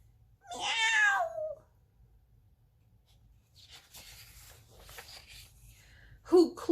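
A single cat meow near the start, a voice imitating a cat during a children's story reading, followed by faint scattered rustling and a brief louder sound at the end.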